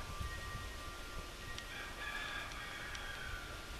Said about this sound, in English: You hear our roosters